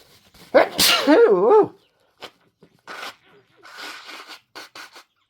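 A single loud sneeze from a man with a dust allergy, followed by faint rustling and a few soft scrapes in an otherwise quiet room.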